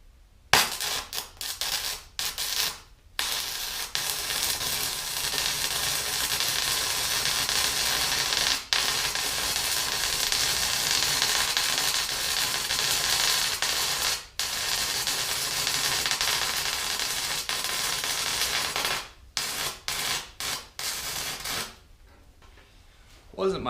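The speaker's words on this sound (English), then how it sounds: "Gonna go ahead and do a 60/11 on this other side right here." Stick welding on half-inch metal with an Amico Power Stick welder and a 1/8 inch 6011 rod gives a sustained, harsh crackling buzz that runs almost continuously, with brief gaps where the arc breaks and restarts.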